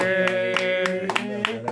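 Hands clapping in a steady rhythm by a congregation during a Tamil worship song at a mountain night prayer, sharp claps under sustained singing voices.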